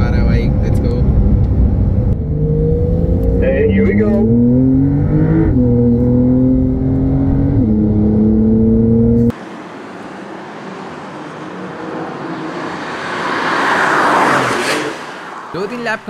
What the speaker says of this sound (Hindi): मैं इधर पीछे माइकल अपनी गाड़ी भगा रहा है भाई